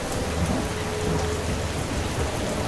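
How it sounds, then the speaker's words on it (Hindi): Heavy rain pours steadily through a forest during a thunderstorm, a dense continuous hiss with low thunder rumbling underneath, loud and close throughout with no voices. "जंगल में बहुत तेज बारिश हुई। बिजली कड़क रही थी।"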